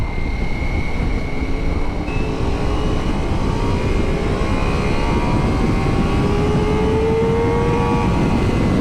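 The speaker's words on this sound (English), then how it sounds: "I just redlined it then. Hit the rev limiter." A Ducati Multistrada V4S motorcycle engine revs hard up to the rev limiter, a loud, continuous rising engine roar with wind noise, steady and close throughout.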